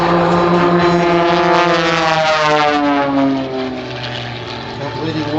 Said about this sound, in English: Completing 5/8 of a loop, they roll the formation around to upright flight.